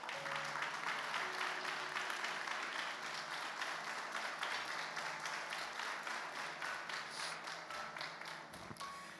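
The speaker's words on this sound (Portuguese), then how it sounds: "Vamos ficar de pé, por favor, e aplauda ao Senhor" Church congregation standing and applauding during an evangelical service, a dense, steady wash of many hands clapping at close range for about nine seconds, fading slightly toward the end.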